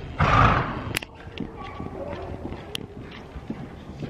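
A horse going into a canter at a barn, its hooves giving a few soft rhythmic thuds after a loud opening rush of noise, with faint stable sounds around.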